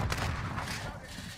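A shotgun in Modern Warfare fires a heavy, booming blast with a rumbling tail, close and loud, with game noise around it.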